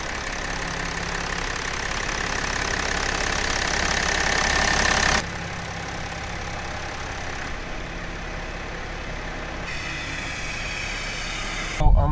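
A BMW E60 3.0-litre diesel with its EGR deleted runs steadily after repair work, a continuous close engine drone with a faint knocking edge that drops in level partway through and ends in a brief louder bump.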